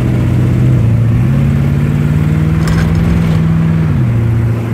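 A car engine revs steadily up close during a check for an exhaust manifold leak, with a loud continuous drone that climbs slightly and drops back near the end.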